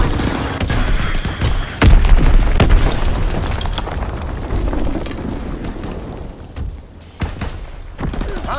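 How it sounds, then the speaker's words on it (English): Bombs blasting during an enemy air raid in a battlefield video game, a loud, dense barrage of booming explosions and gunfire rolling on without a break, close and heavy throughout. "Enemy bomb incoming, get to cover!"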